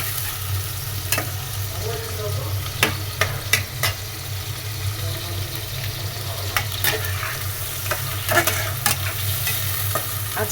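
Shrimp frying with onions in hot oil in a small home kitchen, a steady sizzle with scattered sharp clinks and scrapes of a stirring spoon against the pan over a low hum.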